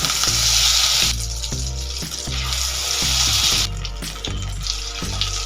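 Egg-coated rohu fish pieces fry in hot oil, giving a continuous bubbling sizzle with occasional sharper crackles, fairly loud and close, with no talking.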